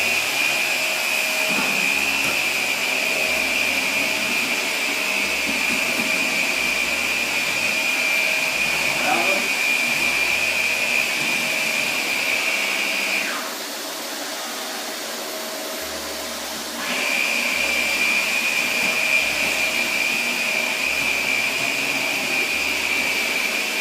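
A vacuum cleaner drones with a high, steady whine, cuts out briefly for a few seconds, then starts up again.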